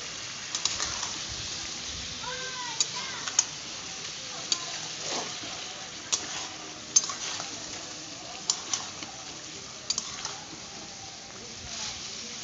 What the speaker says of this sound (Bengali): দেখো আমি এখন চিকেনটাকে ভালো মতো কষিয়ে নিচ্ছি